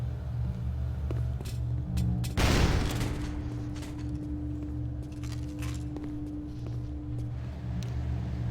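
A grenade blast in the shooter game Warzone, a loud broadband burst about a quarter of the way in that decays into a long rumble, over a steady bed of game ambience and distant gunfire.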